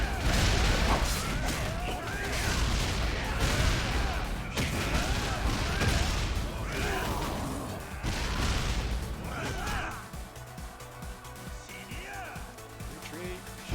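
Grenade explosions and bursts of gunfire from a Yakuza Kiwami 2 battle crash and boom repeatedly, heavy and dense at first, then thinning out toward the end.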